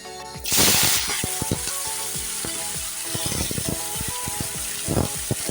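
Malabar spinach and potatoes dropped into a hot wok with oil, setting off a loud burst of hissing sizzle that settles into steady frying with repeated scraping and stirring clatter throughout.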